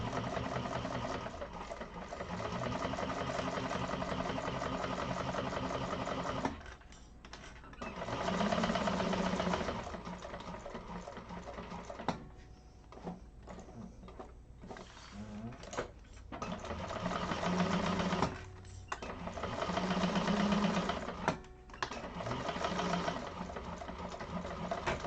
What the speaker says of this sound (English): Top stitch across the top.